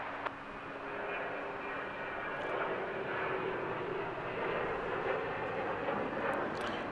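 A Kalitta Air Boeing 747 cargo jet at LAX, heading out toward Seoul Incheon, with a steady broad engine roar that holds fairly even and moderately distant throughout, without speech.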